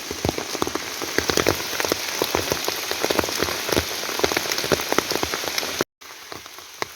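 Rain pattering steadily on leaves and surfaces in a forest, dense crackling drops close by, with a brief dropout near the end before the patter resumes.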